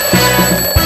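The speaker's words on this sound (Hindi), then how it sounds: "आप सुन सकते हैं ये अलार्म का साउंड आ गया" On a chat show game, an alarm signals a failed task: a short, loud, buzzing electronic alarm tone with steady pitched harmonics that sounds in quick pulses, with no talk over it.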